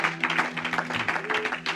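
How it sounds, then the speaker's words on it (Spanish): A church congregation claps briefly, soft scattered applause with a faint low voice or hum underneath. "Cuando damos un aplauso al Señor, díganle muchas gracias."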